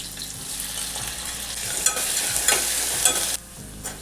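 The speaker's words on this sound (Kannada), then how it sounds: "ಉಳ್ಳಾಗಡ್ಡಿ ಫ್ರೈ ಆಗ್ಯದ." Onion frying with cumin and curry leaves in a pan, a thin continuous sizzle with a few sharper spatula scrapes and knocks as it is stirred, heard alone without speech.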